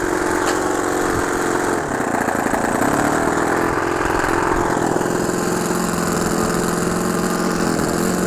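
An OS FS 70S four-stroke model aircraft engine runs after starting, a loud, steady buzzing drone with rapid firing pulses, close and continuous with slight speed shifts, no voices.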